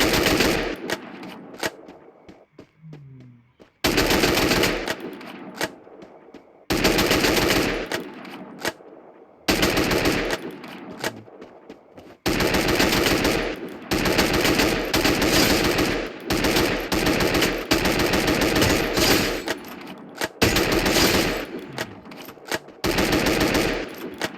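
Bursts of rapid automatic gunfire in the Free Fire shooter game, several loud sustained volleys separated by short silent gaps, dominating throughout with almost no speech.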